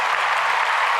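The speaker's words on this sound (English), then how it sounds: "Stadium applause too." A brief burst of stadium crowd applause used as a sound effect, a dense, bright wash of clapping and crowd roar lasting about a second without a break.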